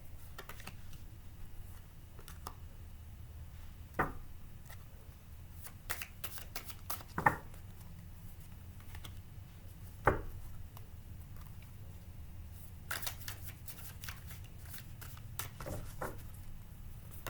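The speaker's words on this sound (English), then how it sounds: "they shuffle so nicely, even though they fly all over the place" Tarot cards are shuffled and riffled close by, soft papery flicks and occasional sharper snaps over a quiet low hum.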